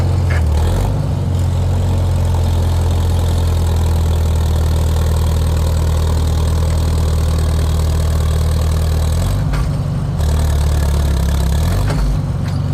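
An antique tractor engine pulling a chisel plow drones loudly and close in a steady low rumble, its pitch dipping briefly as the load shifts.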